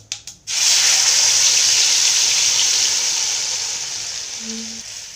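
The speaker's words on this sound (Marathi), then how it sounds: "हे वाटण आहे ना आपण छान तेलामध्ये याला मिक्स करून घेऊ आपण" A few quick clatters, then a loud burst of sizzling as a ground paste of green chili, garlic and peanuts hits hot oil, the hiss fading slowly toward the end.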